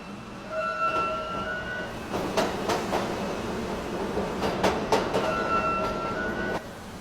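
Train pulling into a station, with a steady rumble and rolling rail noise, a few sharp clanks from the cars, and brief tonal whines at the start and end.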